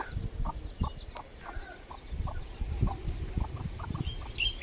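A turkey clucks in a steady series of short, evenly spaced notes at moderate distance, heard over low outdoor rumble and rustling.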